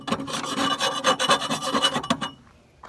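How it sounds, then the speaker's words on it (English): A metal file rasps rapidly back and forth along cut steel edges in quick, regular strokes, close and fairly loud, then stops, leaving near silence. "I'm gonna take a file, clean the edges up."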